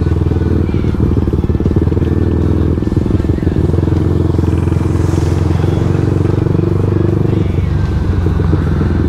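An LCV1 motorcycle with a leaking water pump seal rides in the rain, its engine droning loud and steady throughout, with wet road noise and clattering over it.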